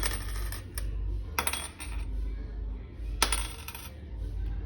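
Gold jewelry clinks in several short, bright bursts over a low background hum, with light rattling between the louder taps.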